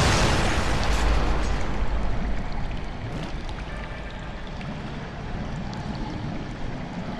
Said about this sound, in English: It blew up.